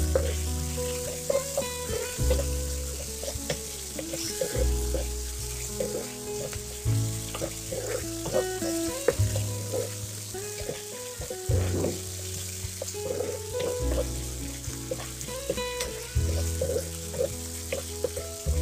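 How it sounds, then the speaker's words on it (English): Ginger garlic paste fries in a pan for butter chicken, a continuous soft sizzle with occasional stirring scrapes, running under steady background music. "And we have to fry this."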